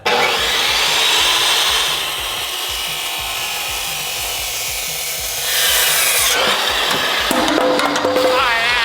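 Steady, harsh rasping of a saw cutting through a MINI's metal exhaust pipe, close up and continuous, with a brief pause and shift in tone partway through.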